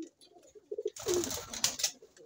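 Pigeons coo softly in short rounded notes near a trap, followed by a burst of fluttering and rustling close by.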